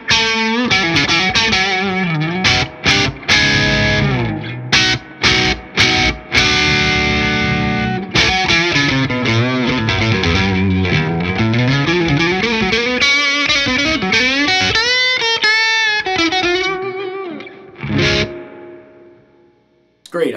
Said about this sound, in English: I'm finally hearing reverb with the JCM 900.